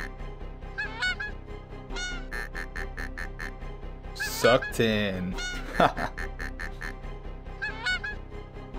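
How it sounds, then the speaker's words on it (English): Geese honk in the Golf Story video game, a run of loud, repeated cartoonish honks bunched around the middle of the clip, with game music and a voice speaking underneath. "Millions of geese are watching around the world."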